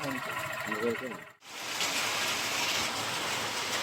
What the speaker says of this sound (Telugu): చూస్తున్నారు కదా మీరు ఎంత వర్షం పడుతుందో